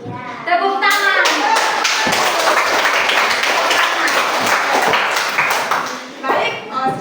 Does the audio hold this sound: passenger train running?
no